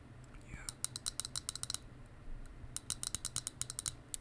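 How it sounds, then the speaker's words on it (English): Crisp, rapid clicks from the small buttons of a Fidget Cube fidget toy, pressed in close, quick clusters with a brief pause between two bursts, loud and near against a quiet room. "these little clicky buttons are definitely quite satisfying"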